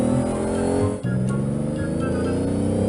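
A mini racing car engine in an underwater car race, heard as a steady, buzzing, high-revving whine that runs continuously and loudly, dipping only briefly for a moment.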